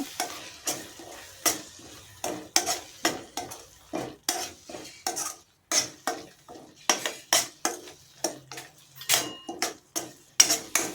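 A spoon stirs spinach curry with turmeric, coriander and cumin powder in oil. It scrapes and clinks against the pan in quick, regular strokes over a light sizzle, with no voices.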